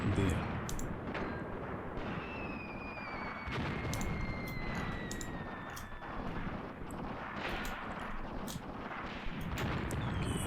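Gunfire and shell blasts crackle through a tank battle in the game Tank Warfare: Tunisia 1943, a dense, continuous barrage of cracks and thumps with whistling projectiles sliding across it, loud and busy throughout.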